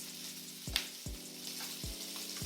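Shrimp sizzle in a hot pan, a soft, steady frying crackle with a few light taps of utensils against the pan, close and fairly quiet.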